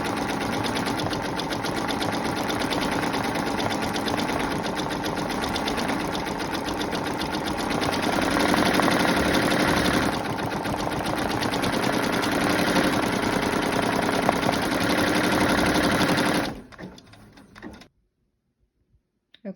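An embroidery machine stitches a design onto a pair of jeans, a fast steady mechanical rattle of needle strokes running loud and unbroken for about sixteen seconds before stopping abruptly into near silence.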